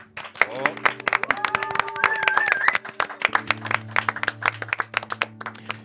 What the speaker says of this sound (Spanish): Y ahora es un buen momento para rellenar este espacio silencioso e incómodo con un aplauso.